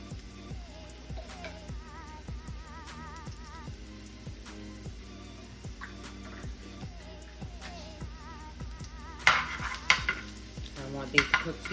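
A metal spoon clinks and scrapes against a pot while minced garlic goes into softening vegetables for vegan Beyond Burger sloppy joes, with light steady kitchen clatter and a few sharper knocks near the end.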